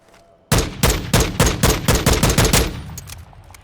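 FTAC Recon battle rifle firing in Call of Duty Modern Warfare II, a sharp burst of about ten loud, evenly spaced shots that start abruptly and trail off into a fading echo.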